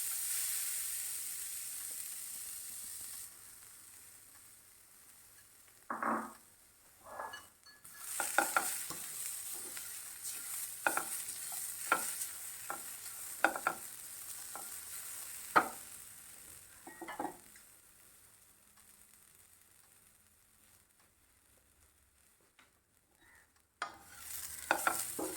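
Xacuti spices dry roasting in a pan over a slow flame, with scattered scraping stirs and light crackles sounding over a faint hiss, long quiet gaps between the stirring strokes.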